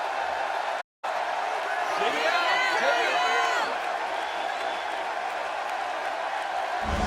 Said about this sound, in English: I've heard some impressive crowd responses over the years, but the response this guy gets, well, it's incredible.